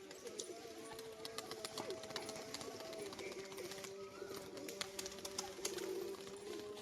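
Pigeons in a coop cooing, low rolling coos mixed with wing flutters and scattered clicks and scuffs, faint and somewhat distant.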